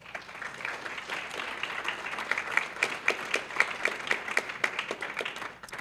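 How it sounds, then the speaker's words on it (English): An audience at a constitution lecture applauds as a presenter is introduced. Scattered clapping at first settles into sharper, rhythmic individual claps before it dies away. "Jeff Hymas, a round of applause"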